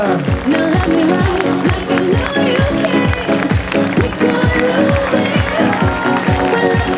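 Spectators applaud at a 10 km road race through a seaside town, clapping under loud rhythmic music with a pounding beat, crowd noise blending into the mix throughout.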